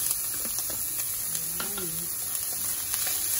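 Ground meat sizzling in a pan with sautéed onion and garlic for a Filipino green bean ginisa, a steady loud frying crackle with the scrape of stirring.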